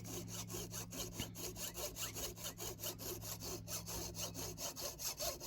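A fine jeweler's saw cuts back and forth on a bench pin, giving a steady rhythmic rasp of about twenty quick strokes, close and moderately loud, with a low hum underneath.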